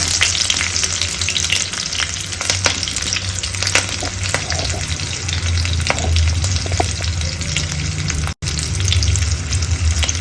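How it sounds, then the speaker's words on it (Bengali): Cumin seeds and green chilies fry in hot oil, giving a close, steady crackling sizzle with frequent sharp pops and spatters, plus a low hum underneath and a brief dropout near the end, no talking. "জিরে কাঁচা লঙ্কাটা ভাজা হয়ে গেছে"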